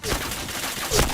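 Video game gunfire, a quick burst of shots from a headshot chain in a shooter match, a short close fusillade over a mid-level background mix with no speech over it.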